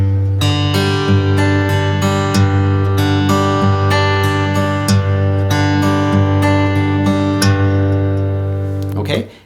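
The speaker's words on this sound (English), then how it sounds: "So this is a version of Travis picking." An acoustic guitar is fingerpicked in a Travis picking pattern, the thumb alternating steady bass notes under a lilting flow of higher plucked notes, close and full for several bars before stopping.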